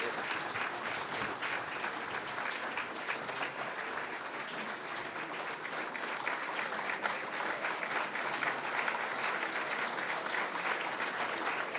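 Sustained audience applause at a financial services dinner during a medal presentation, loud and dense, steady clapping from a large crowd continuing throughout without a break.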